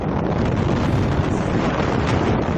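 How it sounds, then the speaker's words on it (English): Strong wind blows outdoors, buffeting the microphone with a steady, loud, unbroken roar and rumble throughout, with no voices. "Wow, it's windy out here today."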